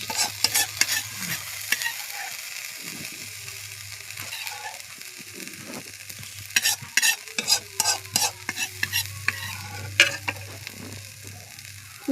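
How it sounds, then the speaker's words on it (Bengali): Meat sizzles in a pot of biryani as it is spread over the rice, a steady low frying hiss broken by scraping and clinking of a spoon against the pot, with irregular stirring knocks toward the end. "এবার মাংস দিয়ে নিয়েছি ওপরে বন্ধুরা, ভালো করে ছড়িয়ে দিচ্ছি মাংসটা।"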